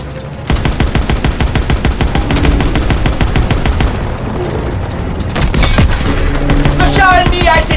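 Heavy gunfire and explosions in a WWII video game battle against a German Panzer tank: loud, rapid machine-gun bursts pound continuously, broken by booming blasts and a brief lull, with shouted voices mixed in.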